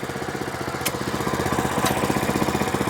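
A walk-behind tractor with a 6.7 horsepower engine and four-speed gearbox runs steadily at reduced speed, its close, loud, even chugging putter continuing throughout with two brief higher clicks.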